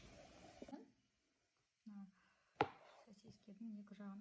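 A kitchen knife chops through hunting sausages on a cutting board while preparing a salad, giving a couple of quiet, sharp taps between faint stretches of talk.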